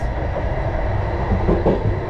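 A train runs along its rails, heard from inside the last carriage as a steady, loud rolling rumble with a continuous rattle that holds even throughout.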